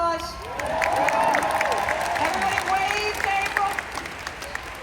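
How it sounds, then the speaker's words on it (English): A convention audience applauds, a dense wash of clapping from a large crowd that builds quickly and holds, while a voice talks over it. "everybody give her a round of applause"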